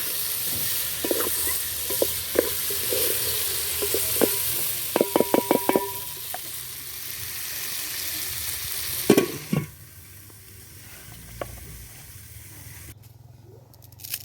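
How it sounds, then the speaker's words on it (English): Liver and carrots frying in a pan in an African village kitchen, a steady close sizzling hiss broken by a cluster of sharp knocks and scrapes from stirring, then the sizzle drops quieter. "we shall cook liver and carrots for 30 minutes until they are ready"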